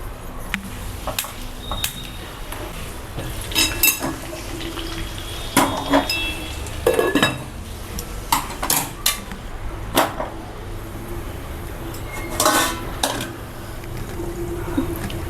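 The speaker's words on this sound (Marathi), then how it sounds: "कढई मी इकडे ट्रान्सफर करते आणि इकडे भाजून घेऊया कांदा आणि खोबरं" A wok clanks and scrapes on a stove in irregular metallic knocks, with a soft sizzle running underneath as onion and coconut roast.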